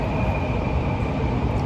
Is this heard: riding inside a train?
yes